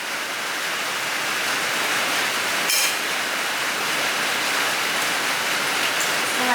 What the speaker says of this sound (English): it's raining rather heavily